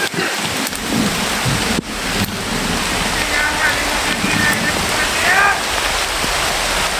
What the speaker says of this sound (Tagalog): Sobrang lakas ng ulan to.